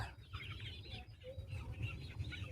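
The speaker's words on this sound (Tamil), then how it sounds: "பெரிய கோழி இங்கே இருக்குது" A large hen clucks in a coop, short low clucks repeating in an uneven rhythm, faint and somewhat distant with no talk.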